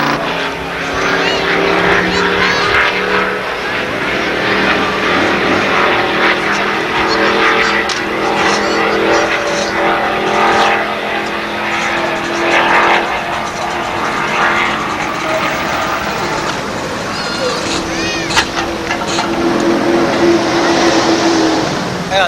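1988-era Formula race car engines roar loudly and continuously at close range at Interlagos, rising and falling as cars speed past, with voices talking underneath.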